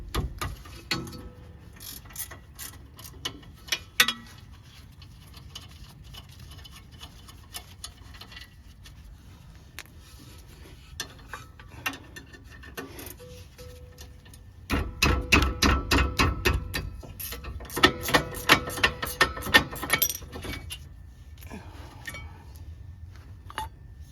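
Ratchet wrench clicking as 14mm brake bracket bolts come off a Toyota Camry during a rear brake job, with intermittent metallic ticks that speed into a louder, rapid clicking burst midway.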